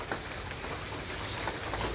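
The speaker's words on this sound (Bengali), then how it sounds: "বৃষ্টি এখনো পড়তেছে" Steady rain falling outdoors in a flooded area near a pond after one to two hours of heavy downpour, a dense continuous hiss with scattered drop taps, fairly close and even throughout.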